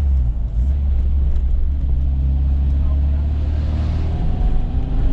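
The engine of a 1984 Volkswagen Parati Plus idles with a steady, low rumbling drone, loud and close, with no change in pace.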